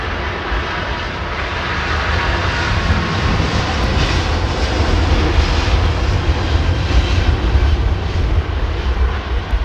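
Airliner climbing out from Heathrow over Bromley on departure, its engines sending down a steady, loud, broad rumble with a slow swell that holds for the full stretch, no voices over it.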